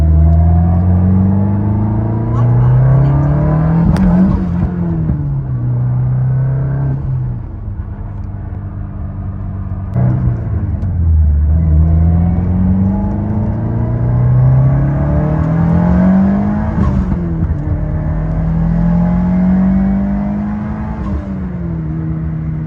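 A 2022 Subaru WRX on flex fuel makes full-throttle pulls, its engine droning loud and close with rising pitch that climbs, drops at gear changes and climbs again, over a constant road rumble.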